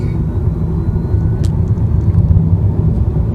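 A 2011 Nissan Leaf electric car accelerates hard from 0 to 60, giving a steady, loud low rumble of road and tire noise that swells slightly as speed builds, with no engine roar.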